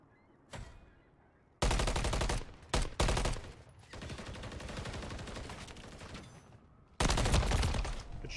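Bursts of automatic gunfire in Call of Duty: Modern Warfare III ranked play, several loud close volleys separated by brief quiet gaps, with one single shot early and a long sustained stream in the middle.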